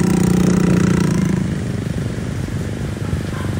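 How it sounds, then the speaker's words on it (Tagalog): Motorcycle engines drone loudly nearby, a steady rumbling buzz that eases slightly as it continues, with no voices. "Daghang sakyanan, motor."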